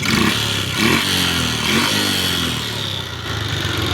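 A Honda motorcycle engine with a timing chain fault runs loud and close, revving in a few surges over a rough, rattly idle.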